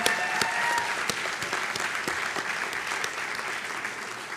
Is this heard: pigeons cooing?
no